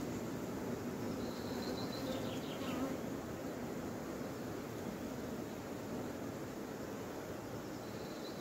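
Honeybees being shaken into a hive make a dense, continuous buzzing hum that stays steady and fairly close throughout.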